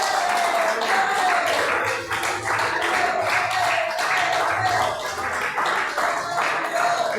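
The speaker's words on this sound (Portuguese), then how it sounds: "adora Ele com as palmas" A worship congregation claps hands together in a church service, a steady dense wash of palms continuing throughout, loud and close, with a sustained sung or spoken voice line running over it.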